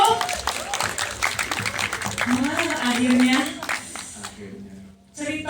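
An audience claps and applauds at a film cast meet-and-greet, a burst of clapping under a host's lively talk that fades out near the end.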